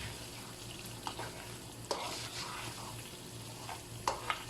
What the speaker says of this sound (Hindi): सारे मसाले भी मैं इसमें डाल दूँगा। मेरा तो भी करेंगे, ठीक से मिक्स करेंगे मसालों को